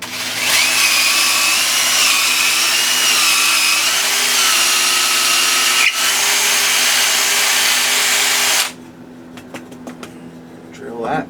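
Power drill boring holes through a custom fishing float to pass wires, a steady loud whine running for about nine seconds before cutting off, leaving faint room noise with a few small clicks.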